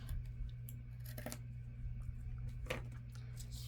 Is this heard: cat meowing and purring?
no